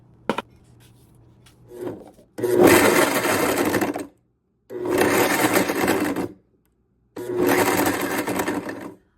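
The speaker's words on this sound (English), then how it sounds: "I'm going to go ahead and just utilize my food processor to do that really quickly." A food processor finely chopping apples for muffins runs in three loud, steady motor bursts of about one and a half seconds each, separated by short silences, with small handling clicks before the first pulse.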